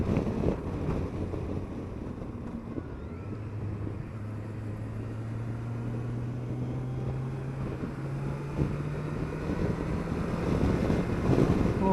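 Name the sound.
Kawasaki Versys 1000 GT motorcycle riding at 4,500 revs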